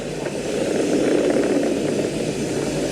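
Falcon 9 rocket engines roar during ascent with a steady, broad, rumbling thunder that holds constant and fairly loud for a few seconds.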